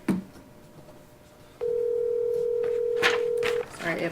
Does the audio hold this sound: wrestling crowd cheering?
no